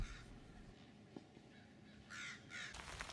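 Crows give a few harsh caws over quiet outdoor ambience, the calls moderately distant and spaced apart.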